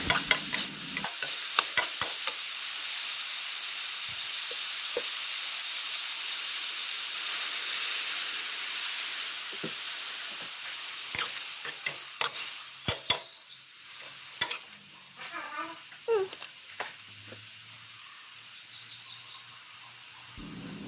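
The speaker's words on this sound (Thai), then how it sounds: "ใส่สตอลงไปผัดเลยค่ะ" Stink beans stir-fry in a pan with roasted chili paste and minced pork, giving a steady sizzling hiss, with the scrape and clack of a spatula stirring close by, which grows busier toward the end. No one speaks.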